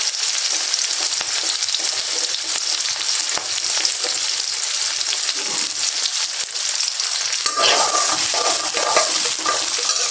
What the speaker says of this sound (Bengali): এখন পেঁয়াজটা একটু ভাজা ভাজা করে তারপরে এখানে মশলা আমি দিয়ে দিব।